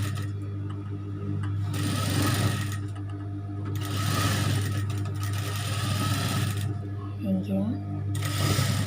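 A sewing machine stitches elastic onto a child's cap in steady bursts of close mechanical whirring with short pauses between runs, while someone talks over it throughout.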